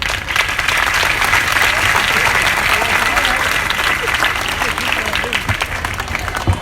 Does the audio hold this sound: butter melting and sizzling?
no